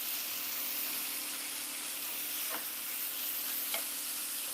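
Bacon frying in a pan gives a steady, close hiss of sizzling fat with occasional faint pops and scrapes, and nobody speaks over it.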